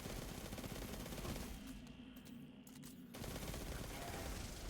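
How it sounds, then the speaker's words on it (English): Rapid automatic gunfire from the Subjunctive weapon in Destiny 2, a dense, continuous stream of shots that briefly drops out in the middle before resuming at full loudness. "Very high rate of fire with this subjunctive."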